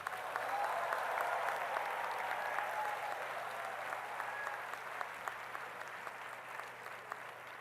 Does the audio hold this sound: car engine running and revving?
no